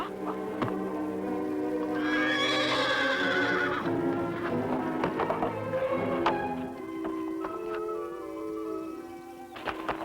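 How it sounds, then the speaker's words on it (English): A horse whinnies loudly and at length near the start, then hooves clip-clop and shuffle close by, with no talking over the sound. "Is Fury your horse?"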